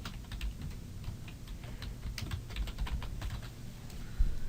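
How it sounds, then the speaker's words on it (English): Someone types a college name on a computer keyboard, producing a quick run of light clicking keystrokes over a low background hum, near and moderately quiet, with no talk. "In this case, I will type in Broward College."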